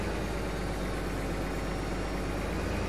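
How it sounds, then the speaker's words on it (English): A tractor engine idles in a field during oat planting in northwest Ohio, giving a steady, unbroken mechanical drone with low vibration throughout. "Come on, you dumb tractor."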